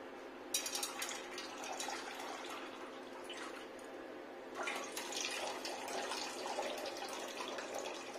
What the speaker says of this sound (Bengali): এটা ঠান্ডা জল, মানে একবার ধুয়ে নেবো ভালো করে পরিষ্কার করে।